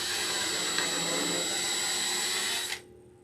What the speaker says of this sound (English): Okay, so I'm going to have to drill those bigger.